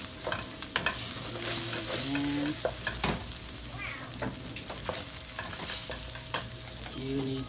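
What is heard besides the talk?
stirring carbonara with egg in a hot pan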